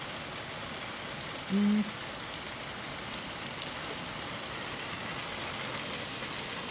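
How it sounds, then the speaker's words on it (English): Heavy rain falls in a steady, dense hiss that stays even and fairly loud throughout. A brief low hum rises once near the start, and a single word is spoken. "Too much rain guys."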